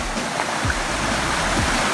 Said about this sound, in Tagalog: Ang lakas ng bulwak ng tubig